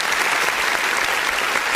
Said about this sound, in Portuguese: Vamos aplaudir o nome do Senhor Jesus pela vida do jovem Maxwell.